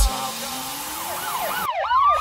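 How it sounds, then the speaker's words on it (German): An emergency siren wails loud and close within a Schlager pop song, its rising and falling tone sweeping steadily over the music before the backing cuts out and the wail carries on. "Sirenen heulen blaulicht hinter mir."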